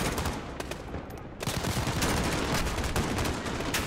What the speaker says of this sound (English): that MG's still doing damage